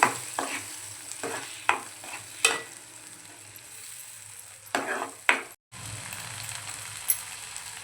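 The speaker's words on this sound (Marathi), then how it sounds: "आणि तेल सुटेपर्यंत आपल्याला परतवून घ्यायचं आहे।" Ground masala paste sautéing in hot oil in a pan for paneer matar, a quiet continuous sizzle broken by several scraping stirs of a spoon, close by, with no talking.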